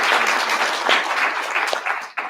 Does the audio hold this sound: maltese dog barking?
no